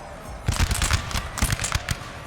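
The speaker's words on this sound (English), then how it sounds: "There's a solid volley there from the troops." Massed musket volley fired by troops in Napoleon: Total War, a loud ragged burst of many overlapping shots crackling over about two seconds, with scattered reports trailing off.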